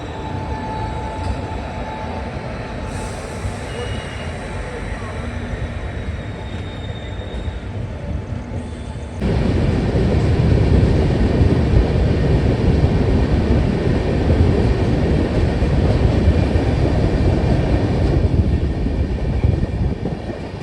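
Nagpur Duronto Express halted at Kasara ghat while its banker locomotives detach, heard as a steady low rumble of idling diesel engines that steps up sharply louder midway and stays loud to the end, no voices.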